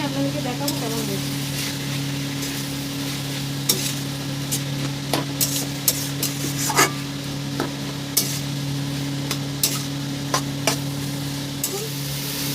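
A spatula stirring chicken with chopped banana flower in a sizzling pan, a continuous frying hiss broken by sharp scraping clacks at irregular intervals, close by, with a steady hum underneath.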